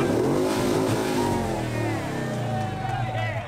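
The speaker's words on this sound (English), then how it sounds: "I'm going to rev the engine before I give it to him" A car engine revs loudly at close range in a sustained roar, while voices talk over it.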